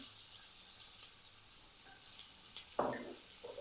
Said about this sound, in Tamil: இப்போ எண்ணெய் சூடாகிட்டு இதில் ஒரு பாதி பெரிய வெங்காயம் சேர்த்துக்கொள்கிறேன்